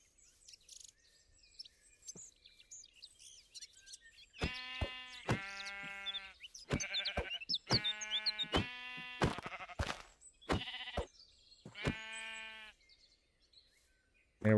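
Sheep in the Builders Paradise 2 video game bleat several times in a row, loud wavering cries close by after a quiet start with faint chirps, ending in a sudden sharp burst.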